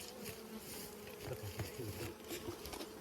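Africanized honey bees hum in a dense, steady buzz from a colony being re-homed, a continuous drone with faint taps and rustles mixed in.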